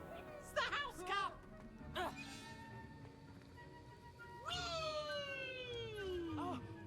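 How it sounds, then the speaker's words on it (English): A house cat in Hogwarts Legacy meows several times, with short rising and falling cries early on and a longer drawn-out call near the end, sitting close and clear over a soft game backdrop. "It's the house cat!"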